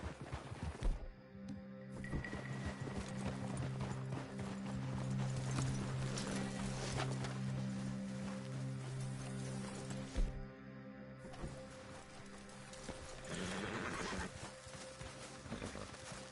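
In the Red Dead Redemption 2 video game, horses move across open ground. A rhythmic clip-clop of hooves plays alongside a low musical drone, with at least one horse whinnying and snorting near the end.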